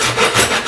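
Pull saw shaving a thin sliver off a wooden piece to make it fit, with several quick rasping back-and-forth strokes close up, alone.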